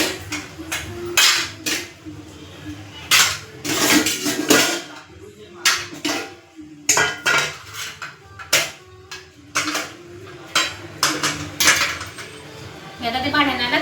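Metal cooking pots are handled in a home kitchen while making phulke, giving a series of irregular, sharp clanks and clinks of varying loudness with short quiet gaps between them.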